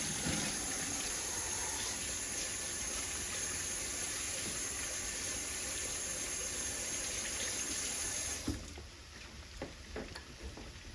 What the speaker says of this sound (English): Pardon me for washing my hands.